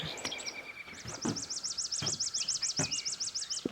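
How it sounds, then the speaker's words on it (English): Songbirds sing outside in the early morning near an orchard, with one bird repeating a rapid, rhythmic trilling phrase over scattered chirps and brief clicks, fairly close and clear against a quiet background. "I'm outside because the birds woke me up."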